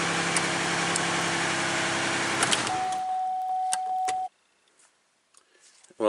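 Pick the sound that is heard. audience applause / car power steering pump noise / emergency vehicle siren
car power steering pump noise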